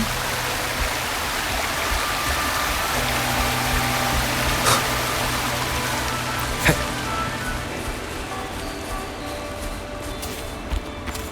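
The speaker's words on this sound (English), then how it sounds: "So we're just supposed to walk through this waterfall?" Waterfall in the video game Wuthering Waves, a steady mid-level rushing wash of falling water with a low hum beneath and a couple of short sharp clicks.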